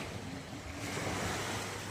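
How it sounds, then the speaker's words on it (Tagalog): Ocean waves crash on a roadside beach, a continuous loud wash of surf that swells midway, with wind buffeting the microphone and no voices. "Yung hampas ng alon."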